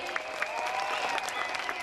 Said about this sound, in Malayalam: കീബോർഡിന്റെ എല്ലാമായ അടിമാലിയിൽ നിന്നൊരു മാണിക്യം ഷിജു അടിമാലിക്ക് നല്ലൊരു കൈയടി